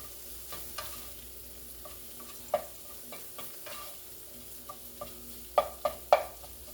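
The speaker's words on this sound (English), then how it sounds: "And just stir that around. Incorporate it with your sausage." Sausage and flour stirred in a hot pan for sausage gravy: a steady frying sizzle under repeated scraping strokes of the spoon, with a few sharper clinks toward the end, close and fairly quiet, no talking.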